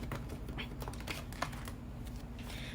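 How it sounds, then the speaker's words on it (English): Fortune tea leaf cards are shuffled by hand, giving quiet, rapid papery riffles and soft flicks in uneven bursts, close and faint, with no talking. "Now, this I'm going to shuffle for the fortune tea leaf cards."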